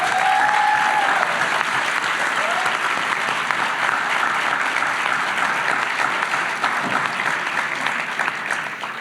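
Sustained audience applause at a veterinary white coat ceremony, a dense, even patter of many hands that fills the room and slowly tapers near the end, with a faint voice briefly audible at the start.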